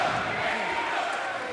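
A wrestling arena crowd at an AEW match roars in a continuous, loud, dense wash of cheering that holds steady throughout.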